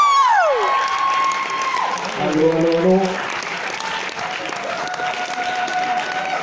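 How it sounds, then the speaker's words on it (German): A crowd applauds and cheers loudly and continuously at a music premiere show, with whoops and a voice calling out over the sustained clapping. "Großer Applaus"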